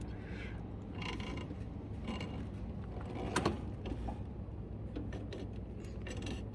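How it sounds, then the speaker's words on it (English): A loose drive belt is pulled by hand off the pulleys under a Cub Cadet LTX 1050 riding mower deck, giving soft scraping, creaking and ticking mechanical noises that come in small clusters, close up and moderately quiet. "I think I can just pull it off of here."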